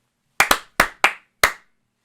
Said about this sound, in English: 3 claps for Larry